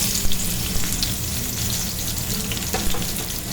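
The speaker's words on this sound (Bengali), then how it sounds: "পেঁয়াজের বেরেস্তাটা কিন্তু ভেজে নেব" Long-sliced onions fry over high heat for birista, a dense, continuous crackling sizzle heard up close and fairly loud, with no voices.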